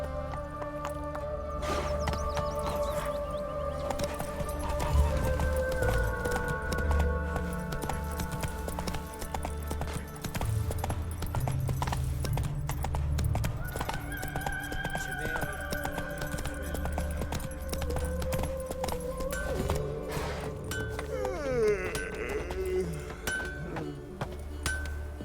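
Roach the horse gallops in The Witcher 3 with a rapid, rhythmic clip-clop of hooves under low rumbling game ambience and tonal music, steady and close for the whole stretch.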